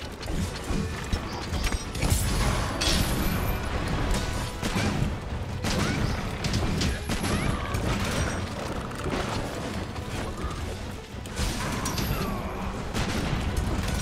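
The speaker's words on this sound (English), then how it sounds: "another one of these harpoon spear firecracker attacks kicking in" A harpoon spear firecracker attack in an action video game makes a dense stream of crackling, clattering bursts and metallic impacts that run continuously at a steady loudness.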